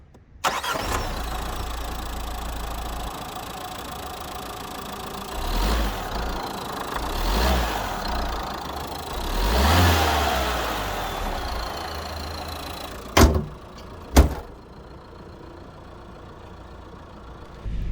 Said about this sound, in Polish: Silnik ma naprawdę słabą kulturę pracy i jest głośny, zwłaszcza na zimnym